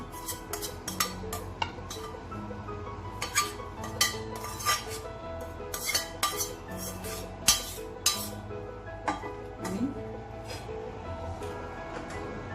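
Light clinks and taps of a spoon against a serving bowl as tempered vegetable fried rice is scooped in, scattered and irregular, close by with a quiet background.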